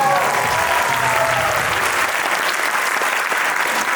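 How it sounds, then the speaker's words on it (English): A crowd at a music night applauds loudly and steadily, a dense continuous wash of clapping that opens with a voice speaking over it. "Big round of applause for them."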